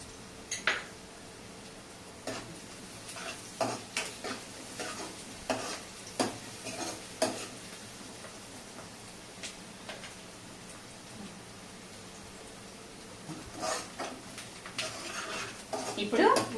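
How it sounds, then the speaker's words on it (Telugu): Onions frying with salt in a pan for a tamarind-leaf dish, with intermittent scraping stirs and faint sizzling beneath a quiet background, a few sharper utensil clinks near the end. "ఇప్పుడు ఉల్లిపాయలు చక్కగా వేగిపోయాయి"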